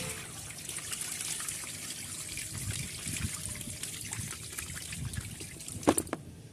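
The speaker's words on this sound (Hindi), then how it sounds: "इस तरह से पानी निकाल के कम से 5-6 बार ये पानी निकालना पड़ेगा" Water drains off home-harvested wheat grains being washed in a container, a continuous soft trickle and slosh with a couple of sharper splashes near the end, close and fairly quiet, no talking.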